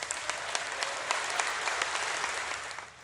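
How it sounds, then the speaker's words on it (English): Lebanese lawmakers applaud in parliament after Army Commander Joseph Aoun wins the presidential vote, a dense, steady burst of many hands clapping that fills the room for a few seconds. "Lawmakers erupted in applause after Army Commander Joseph Aoun won the majority of votes"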